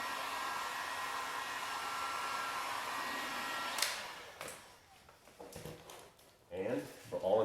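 A heat gun blows steadily at close range while warming tint film wrapped over a car taillight, a continuous airy roar that cuts off partway through, followed by quieter handling noises and brief talk.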